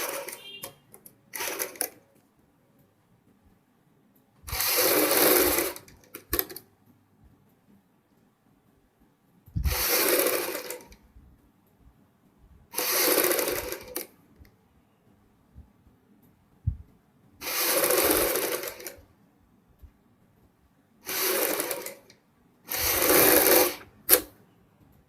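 Sewing machine running a double line of stitching along the strip of a kurti with a high neck collar, in about seven separate bursts of a few seconds each, with quiet pauses between runs.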